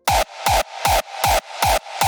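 Hardstyle kick drum processed with a limiter and widened stereo effects, six heavy distorted punchy hits at a steady pulse, each with a falling low thump and a ringing tonal tail, loud and alone.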